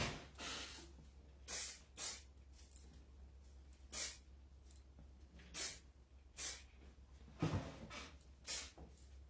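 Hair product sprayed from a large aerosol bottle, a series of short soft hissing bursts spaced a second or two apart, fairly quiet and close, with no talking.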